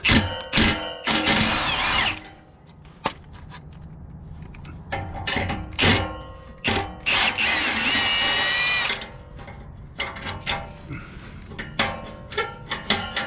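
An impact wrench works on an exhaust clamp, firing in short loud whirring bursts with clanks and knocks between, close up in a cramped work space.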